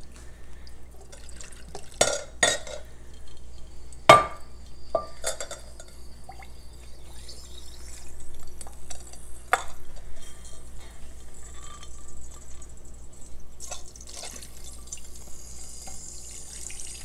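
Hot oil infused with Oregon grape is strained through a funnel fitted with a strainer, giving soft trickling and scattered drips with a few light clinks, quiet and close.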